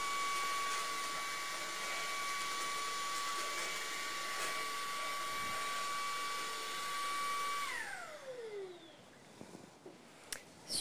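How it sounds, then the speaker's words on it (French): Electrolux 800 cordless stick vacuum cleaner running at a steady, loud whine with hiss, then switching off and spinning down for a faint quiet tail with small clicks. "On n'a pas besoin de reposer l'aspirateur. On va pouvoir venir tout aspirer."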